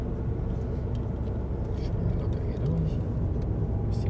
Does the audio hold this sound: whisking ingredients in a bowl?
no